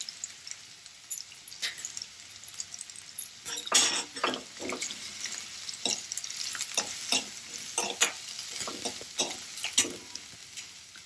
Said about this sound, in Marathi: कांदा चांगला मऊ होईपर्यंत आपल्याला हे भाजून घ्यायचं आहे